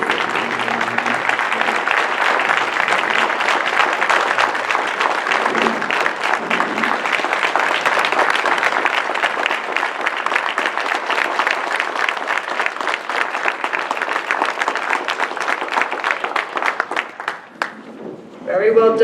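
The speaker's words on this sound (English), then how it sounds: "Have a round of applause, please, for all of these individuals." Sustained audience applause fills a school board meeting in Pennridge, steady dense clapping for about nineteen seconds that tapers off near the end.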